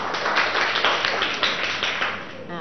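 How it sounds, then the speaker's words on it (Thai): Students in a Thai school classroom clap for a classmate during a fractions lesson, a dense patter of many hands, fairly close and steady, thinning near the end. "ปรบมือให้จันทการค่ะเก่งมาก"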